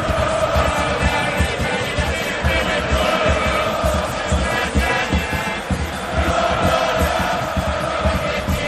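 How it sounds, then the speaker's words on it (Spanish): Football crowd in a stadium at a championship match roaring and chanting in an ovation, a loud, dense mass of voices with rhythmic pulses, filling the space continuously. "es impresionante la ovación del público"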